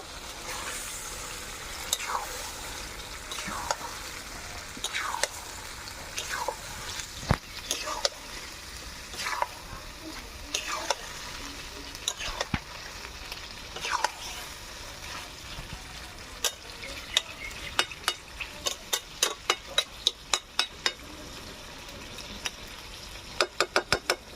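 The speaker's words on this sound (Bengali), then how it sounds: "ফুটে গেছে, এই মাছটা ঢেলে দেবো, দিয়ে একটু নাড়াচাড়া করে নেব।" Lote fish sizzles in hot oil while a utensil stirs and scrapes the pan in repeated strokes, ending in a quick run of sharp ticks over the constant frying hiss.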